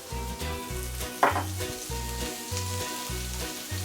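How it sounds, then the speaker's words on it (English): Half an onion fries in a pan on its way to caramelizing for a homemade marinara, a steady soft sizzle running under a rhythmic backing track with a brief louder burst partway through. "my onion is get actually caramelized"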